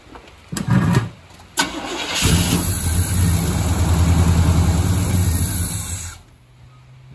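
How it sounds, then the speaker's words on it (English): Rebuilt engine of a 1977 GMC Sierra squarebody pickup cranking in two short loud bursts before catching, then a steady rough idle that runs close and loud for several seconds before cutting off. "Okay, crank it."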